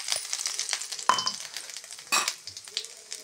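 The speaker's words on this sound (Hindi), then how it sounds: "तेल गर्म है और मेरा मसाला पीस चुका है। मैंने दो लिया दो पकौड़ी, तो मैंने इस पकौड़ी को फोल लिया है और डालेंगे इसमें हम तेल में" Pakora batter drops into hot oil in a pan, giving a soft, steady sizzle broken by a few sharper spattering bursts, quiet and close, with no talking.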